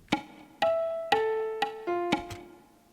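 Several cleanly played instrument notes ring out in a measured rhythm, five distinct plucked or struck attacks that each sustain briefly, quiet and alone with no voice.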